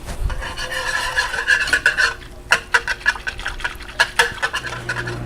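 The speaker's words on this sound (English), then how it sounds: "then we're just gonna whisk it until it boils" Cheddar sauce being whisked in a pan over high heat: quick rhythmic scraping and rasping strokes of a whisk against metal, close and moderately loud, in steady bursts with no talk.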